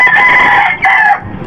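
Backyard hens and a rooster cluck and crow loudly and close by, one long strained crow broken by a brief pause and then resumed, with no talk over it.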